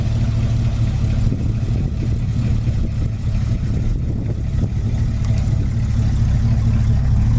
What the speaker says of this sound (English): Listen to how quiet that engine runs.